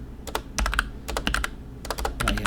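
Someone types on a computer keyboard in quick, uneven clusters of close, crisp key clicks with brief pauses between bursts.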